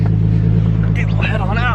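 A Nissan 350Z Nismo engine warming up, a steady low idle hum close by, while a person talks over it toward the end.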